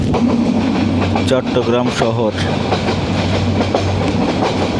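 A moving passenger train on the Mymensingh to Chittagong line rumbles with a continuous loud rattle and a low drone from inside the carriage, while people talk and call out over it.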